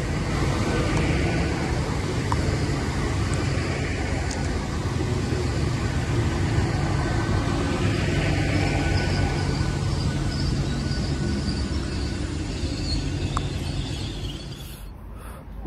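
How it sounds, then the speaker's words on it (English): Great Western Railway Class 800 unit 800 010, a delayed Hereford service from London Paddington, draws into the station with a steady, moderately loud broadband rumble that eases slightly toward the end. "here comes the delayed 11:44 Great Western Railway service to Hereford from London Paddington"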